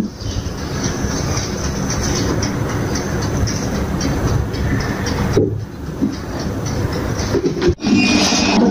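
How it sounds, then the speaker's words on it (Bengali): An electric beater runs at full speed through cake batter of eggs, milk and sugar, making a loud, continuous whirring rattle that briefly drops out near the end. "ফুল স্পিডে বারো মিনিটের মতো বিট করে নিতে হবে"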